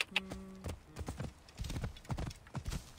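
In the Assassin's Creed Origins video game, a horse neighs briefly, then its hooves clip-clop steadily and fairly faintly in an irregular walking rhythm, with no talk over it.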